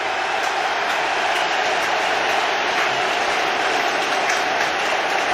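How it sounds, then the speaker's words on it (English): A large stadium crowd at the England vs Croatia football match roars in a dense, continuous wash of noise as England take the knee, with booing and an ovation mixed together, steady and loud throughout. "some booing in there, but a very loud ovation as well"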